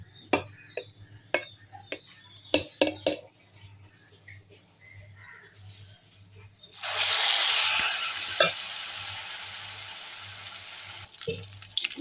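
Thattu vadai frying in hot groundnut oil begins with a few sharp taps and clinks, then bursts into a loud, steady sizzle that fades slowly as the dough cooks.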